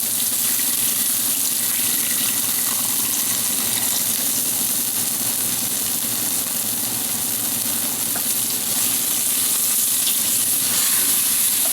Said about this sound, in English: Therefore, I'm adding another ½ cup of beef stock.